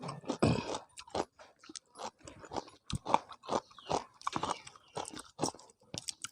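Giant squid tentacles being chewed up close, loud crisp crunches and bites repeating in an irregular rhythm with short pauses between mouthfuls, no talking.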